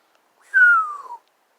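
A single clear descending whistled bird call sounds overhead, lasting about half a second, moderately loud against otherwise silent surroundings.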